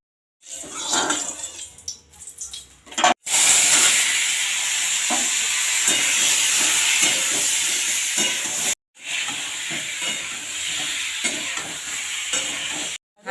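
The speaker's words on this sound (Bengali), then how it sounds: "এই আলুগুলোকে ভেজে নেওয়া হবে, আলু আর পেঁপে। হ্যাঁ, হালকা একটু ভেজে নেবো আর কি।" Potatoes and papaya frying lightly in hot oil, a steady broad sizzle with stirring clatter that runs almost continuously for the length and drops out for two brief moments.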